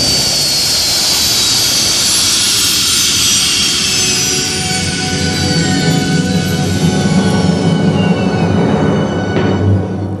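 A runaway Avro jet engine roars at full power with a high whine, then its tones slide slowly downward as it begins winding down, loud and close with no talk.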